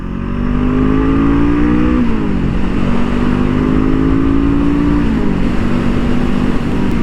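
A 2023 Honda CL 500 motorcycle runs at speed on a racing track, its engine droning loud and close with steady pitch, a couple of small shifts in tone as the rider adjusts the throttle.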